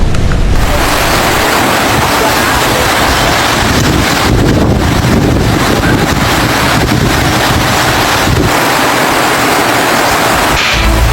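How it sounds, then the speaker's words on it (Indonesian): Loud, constant roaring wind buffets the microphone with a heavy wash of noise that could include pouring rain, during a storm in Maros Regency, South Sulawesi, Indonesia, with no voices. "saat hujan deras disertai angin kencang menerjang wilayah Kabupaten Maros, Sulawesi Selatan"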